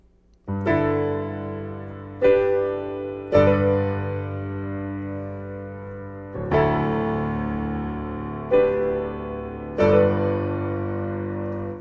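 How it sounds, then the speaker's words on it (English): Solo piano playing the slow intro of a song, six struck chords, each ringing and fading before the next, unhurried and clear. "So I want to show you the piano intro"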